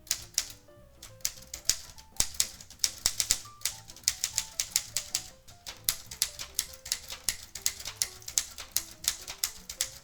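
A Smith-Corona Skyriter portable typewriter with a felt insert fitted under the type slugs, typed at a steady pace: a dense run of dampened key strikes with occasional brighter bell-like rings and carriage sounds, close and alone.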